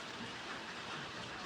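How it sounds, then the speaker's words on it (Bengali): Heavy rain from a storm falls outside in a steady, dense hiss that fills the whole moment without a break and with no voices. "বাইরে প্রচুর পরিমাণে বৃষ্টি হচ্ছে"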